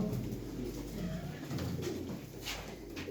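Pigeons or doves coo softly among a group of show birds at an evening auction, low murmuring calls over a constant background hum, fairly faint and somewhat distant.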